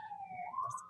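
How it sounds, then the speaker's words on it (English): An ambulance siren passes outside on a New York street, a short sustained wailing tone rising in pitch, moderately faint and distant in the background. "let's take a quick break just to let this ambulance"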